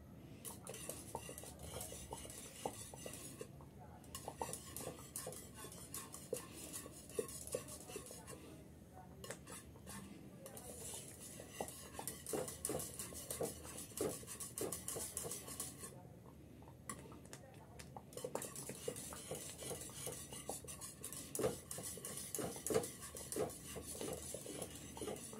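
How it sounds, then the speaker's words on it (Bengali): Custard is stirred constantly in a metal pot, a long run of rhythmic spoon scrapes and clinks against the pan, fairly faint and steady with short pauses between bursts, and no one speaking. "এই সময় কিন্তু কোনোভাবে নাড়াচাড়া বন্ধ করা যাবে না"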